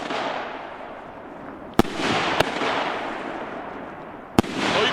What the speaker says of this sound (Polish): bardzo wysoko strzela. Ten efekt czerwony jest rewelacyjny.